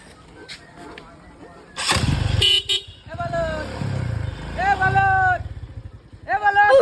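A motorcycle engine starts and revs close by, with several short horn toots breaking in; people talk loudly throughout.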